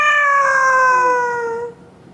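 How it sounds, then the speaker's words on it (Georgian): A single cat meows loudly and close up, one drawn-out wavering call lasting almost two seconds before trailing off. "კატა ჩხავის."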